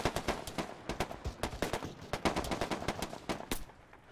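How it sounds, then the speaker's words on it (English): Automatic gunfire rattles in a military shooter game, with fast irregular bursts of sharp, loud shots running throughout and no talk over them. "There's someone shooting right now."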